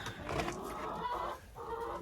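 Old hens clucking nearby in a coop, a busy overlapping chatter of soft clucks and murmurs with some rustling.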